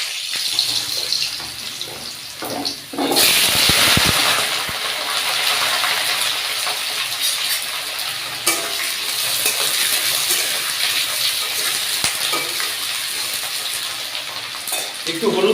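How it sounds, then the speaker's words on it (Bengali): Potatoes go into hot mustard oil, setting off a loud surging hiss that settles into a steady, bright, close frying sizzle with occasional crackles. "তেলটা গরম হয়ে গেছে, আলুগুলোকে ছেড়ে দিলাম।"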